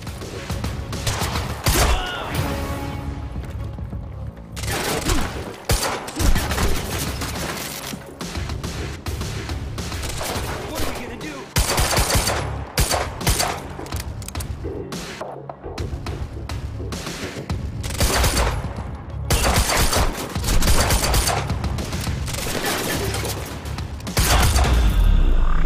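Gunfire in the video game Quantum Break crackles in dense bursts and volleys, mixed with heavy thuds and impacts, loud and continuous throughout a chaotic firefight.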